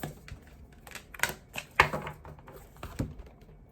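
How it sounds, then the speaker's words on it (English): Tarot cards are dropped and gathered back up: a handful of light, close slaps and clicks land sparsely over a few seconds in a quiet room. "Oh my gosh, I'm dropping all the cards."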